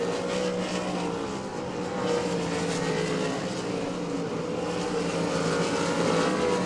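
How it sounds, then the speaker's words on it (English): IMCA RaceSaver sprint cars race at Devil's Bowl Speedway, a loud, continuous snarl of several engines running together lap after lap with no pause. "10 laps down here in the feature event for your IMCA Race Saver Sprints"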